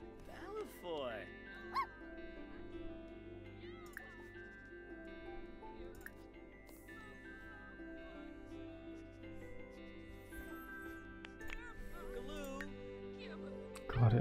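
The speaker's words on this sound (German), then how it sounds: "Der Hund hat die Dusche angeheult." A dog in The Sims 4 howls and whimpers at a shower, giving faint, scattered yips and whines beneath steady game music and ambience, with a person talking over it.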